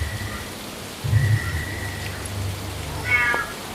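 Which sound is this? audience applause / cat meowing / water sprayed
cat meowing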